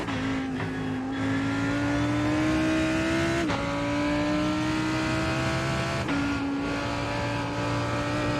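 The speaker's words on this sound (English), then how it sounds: "There's a car approaching." A GT race car engine in a racing sim at Interlagos, a steady high drone that rises through the gears with brief dips at each upshift, loud and close for the whole stretch.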